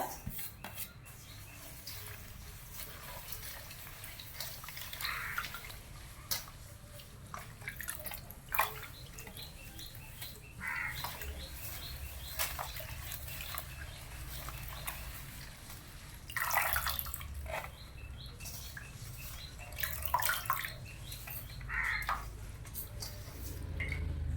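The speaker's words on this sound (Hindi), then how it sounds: "एबे पानी रे शाग पूरा भल से धोई दबा।" Drumstick leaves rinsed by hand in a vessel of water, with soft continuous splashing, dripping and occasional clinks of the pot, close and quiet, no talking.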